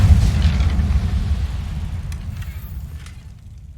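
In Hogwarts Legacy, an Incendio fire spell erupts as a deep, booming blast whose low rumble rolls on and slowly fades over a few seconds.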